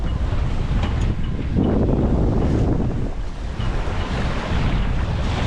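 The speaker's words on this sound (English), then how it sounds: "We got a nice little breeze here." Steady, loud wind roaring past a sailboat under full canvas off Catalina Island, mixed with the rush of water along the hull and no voices.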